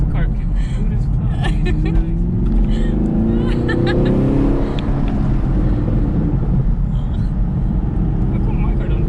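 A Chevrolet Camaro SS 1LE accelerates hard, its engine note climbing in loud rising sweeps close by, while people shout and talk excitedly over the roar.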